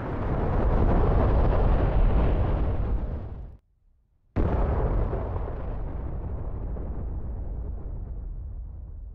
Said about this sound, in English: So what I'll do is I'll blow the units up and then show you the late activations spawning in.